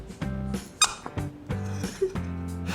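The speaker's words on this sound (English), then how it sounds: "it's a squeaky toy." A dog's squeaky toy squeezed repeatedly, giving several sharp high squeaks in an irregular rhythm over a soft low harmonic hum, close by with no talking.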